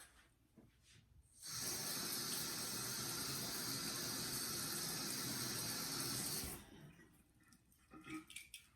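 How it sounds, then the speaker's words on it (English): A kitchen tap runs in a steady, close hiss for about five seconds as a fork is rinsed under it, with quieter handling sounds before and after. "All right, let me rinse this off."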